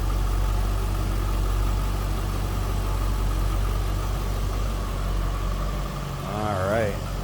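A 2004 Chevrolet Corvette convertible with a 5.7-liter LS1 V8 idles steadily with a low, even rumble close by, and a brief voice comes in near the end.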